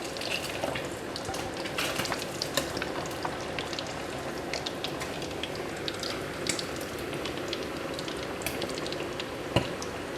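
Fish deep frying in a pan of hot oil gives a dense, even sizzle and crackle that carries on steadily throughout, close by, with scattered sharper pops.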